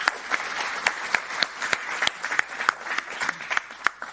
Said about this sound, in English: And give them a round of applause, please.